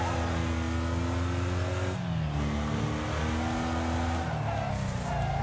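Class C race car in a video game, a loud engine droning and revving with pitch drops at gear changes, faint tire noise underneath, no talking.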